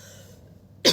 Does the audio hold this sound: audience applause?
no